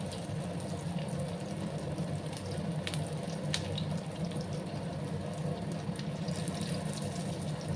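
Rujot leaf fritters (bora) frying in hot oil in a Sylheti kitchen, a steady close sizzle and bubbling with a few sharp pops and crackles throughout, no talking.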